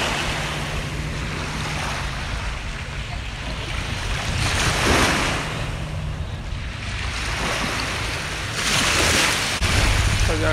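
Summer ocean waves wash onto an Algarve beach in Portugal, a steady roar of surf with wind noise and swells that rise and fall.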